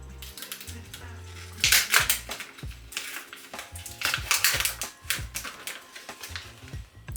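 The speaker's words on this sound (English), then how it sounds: "Oh, I can peel it actually, even better." Vegan halloumi peeled out of its plastic tray at close range: crinkly plastic rustles and crackles in uneven bursts, with soft taps and scrapes between, fairly quiet and without speech.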